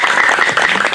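Dense, steady applause from a crowd at a youth baraza community gathering fills the whole moment, loud and close with no talking over it.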